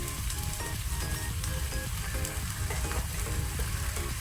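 Chicken wings and a masala mix sizzle steadily in a pan over a low flame, a continuous close crackle and spatter with no pauses and no voices.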